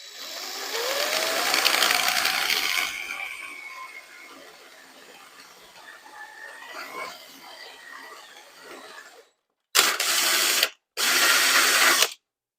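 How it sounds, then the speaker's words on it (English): A 7/16 drill bit bores through metal on a dirt bike hitch hauler. The drill whines loudly as it cuts, then slows into a lower grinding churn, and two short bursts follow at the end. "You can kind of feel when a drill bit is at the end of a hole"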